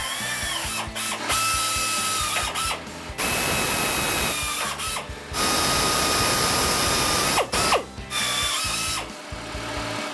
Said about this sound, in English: This is a 3/8 reversible drill. It's pneumatically powered